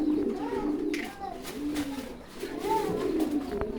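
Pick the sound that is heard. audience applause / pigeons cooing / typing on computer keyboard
pigeons cooing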